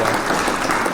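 A brief burst of canned applause on a live morning show, dense and continuous crowd clapping at steady volume with no voices.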